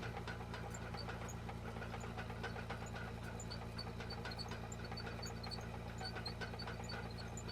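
A tunneler machine's engine chugs close and continuous with a rhythmic knocking pulse and small scattered metallic ticks, with nobody speaking.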